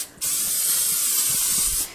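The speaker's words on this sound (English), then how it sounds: "So I'm going to use some butter-flavored pan spray." A close, continuous hiss of butter-flavored cooking spray sprayed onto a pan lasts nearly two seconds, starting and stopping abruptly.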